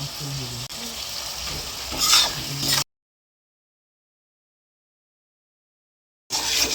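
Chilli chicken with chopped green chillies frying in a pan makes a dense sizzle with a louder burst of spitting, then cuts out to several seconds of complete silence before the sizzling returns briefly.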